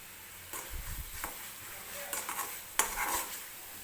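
Egg curry masala gravy for a spicy Maharashtrian egg rassa roasting in oil in a pan, with a few scraping spoon strokes over a low, steady sizzle and no talking.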